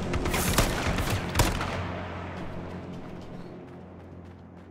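Gunfire in the video game H1Z1, a loud rapid volley of shots with two heavy reports early on, then fading into a trailing echo and quieter ambience.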